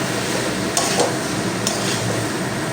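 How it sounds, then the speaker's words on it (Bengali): Spiced fried vegetables being stir-fried in a pan for vegetarian dalia, a steady close sizzle with occasional scrape and clink of the spoon against the pan, no voices. "দিয়ে দেবো যে সবজিগুলো ভেজে রেখেছিলাম দিয়ে দেবো দিয়ে এক মিনিট কষিয়ে নেবো"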